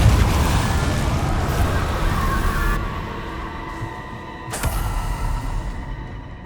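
Incendio and Depulso spell blasts from Hogwarts Legacy, a dense roaring burst of layered magical effects that holds for about three seconds, eases off, then flares again with a sharp crack before rumbling on.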